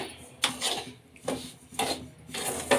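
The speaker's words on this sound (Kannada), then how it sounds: "ಮೊದಲಿಗೆ ಒಲೆ ಮೇಲೆ ಒಂದು ಬಾಣಲಿ ಇಟ್ಕೊಂಡು ರವೆನ ಹುರ್ಕೊಳ್ಳೋಣ" Semolina (rava) roasting in a pan while a spoon stirs it, a close dry scraping rasp that comes in four rhythmic strokes, each about half a second apart.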